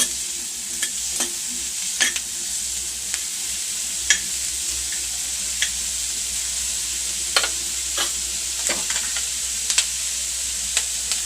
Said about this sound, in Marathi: कांदा थोडा गुलाबी रंगावर येईपर्यंत आपण परतून घ्यायचा।